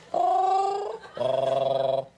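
A person imitates a cat's purr with two sustained, rumbling voiced bursts, close to the microphone, separated by a short pause.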